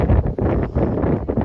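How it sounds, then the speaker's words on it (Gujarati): Cold wind blowing hard over Pavagadh hill, buffeting a microphone in loud, uneven low gusts that surge and dip across a brief moment, with no voices heard. "એકદમ ઠંડો પવન આવે"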